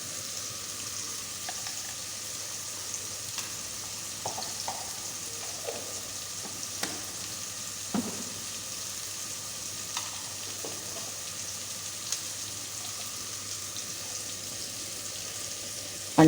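Chicken fries steadily in a pan as ground chillies are stirred in, giving a low continuous sizzle broken by scattered soft scrapes and clicks of the spoon, with no talking.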